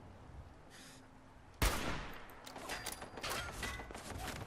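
Gunfire in Fallout 4 arrives as a sudden loud burst of shots followed by a dense, crackling stretch of rapid fire that stays fairly loud to the end, with no talk.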